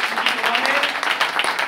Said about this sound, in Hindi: इनके लिए एक बार जोरदार तालियां होने चाहिए